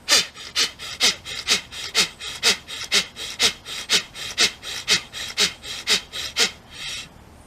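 Rhythmic yoga breathing in a Kundalini practice, about seventeen quick, forceful breaths drawing air in and out in an even pulse, close and loud with no talk over it.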